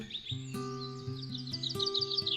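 Songbirds such as a blackbird, chaffinches, blue tits and robins chirp and warble by a river, with bright overlapping calls over a steady low drone throughout.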